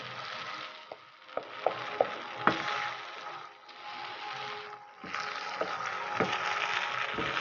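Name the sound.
stirring bread halwa with a spoon while milk dries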